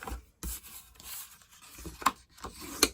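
Scored paper for a favor box is burnished with quiet rubbing strokes, a few soft scrapes and light taps spread across a short, faint stretch.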